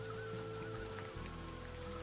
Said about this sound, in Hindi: बारिश अब और तेज हो गई थी।